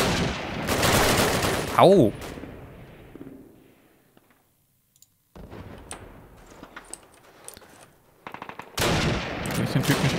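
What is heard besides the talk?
gunfire in the video game Call of Duty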